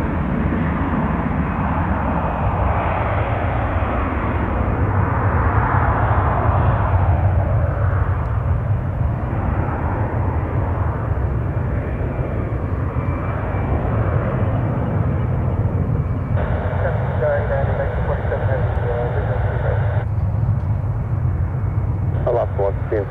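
A heavy jet aircraft at San Francisco airport makes a continuous loud engine roar throughout, with a radio-like voice speaking over it for a stretch.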